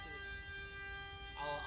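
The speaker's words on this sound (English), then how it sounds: "Is that a tornado siren?" A tornado siren wails steadily in Texas, faint and distant, as a sustained tone through the whole short stretch with a slight swell near the end.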